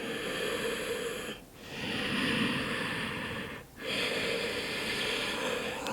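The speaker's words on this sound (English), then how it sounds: "One more nice big breath here." Slow, deep breaths during an intermediate power yoga session, long airy inhales and exhales near the microphone with two clear pauses between them, steady and unhurried over a faint background hiss.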